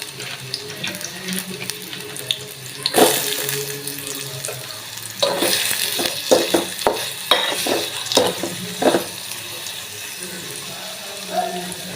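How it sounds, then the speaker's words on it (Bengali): Onion frying in oil in a pan for an egg curry gives a steady sizzle, broken by repeated stirring scrapes and clinks close by. "এটার ভিতরে তেল দিয়ে দিব, আর এটার সাথে দিয়ে দেবো পেঁয়াজ"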